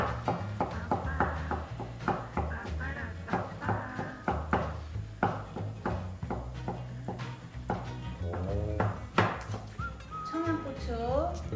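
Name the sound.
knife slicing rolled egg crepe (jidan) on a board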